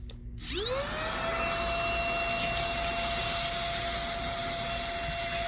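An Aposen H250 cordless vacuum is switched on in normal mode. It spins up quickly and then holds a loud, steady, high whine, with no talking.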